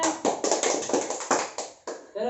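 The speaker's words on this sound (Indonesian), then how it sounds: "Ayo terus tepuk tangan ayo." A class of children claps their hands together in a steady series of loud, sharp bursts. The claps come in quick rhythmic groups, with a little voice activity mixed in.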